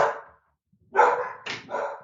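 A ten-month-old puppy barks in three sharp bursts, one, then a pause, then two close together, fairly near and clear with no talking over them.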